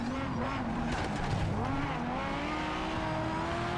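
Racing cars braking into a narrow chicane in Project Cars 3 during a GT A race, with sliding tire squeal and pitch-shifting engine whine, moderately quiet under steady engine noise.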